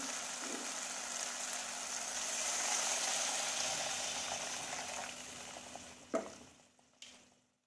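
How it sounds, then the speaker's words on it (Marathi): Hot water goes into a pan of sizzling tomato curry, a broad hissing bubbling wash that swells and then fades, ending with a couple of brief utensil knocks and stirring scrapes. "तर आपल्याला ह्याच्यात गरम पाणी घालायचं आहे।"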